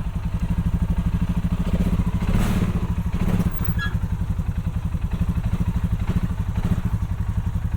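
A loud, rapidly pulsing ATV engine runs steadily up close while being driven onto a Ford Maverick pickup bed, its throb holding even throughout with a few clunks and rattles mixed in.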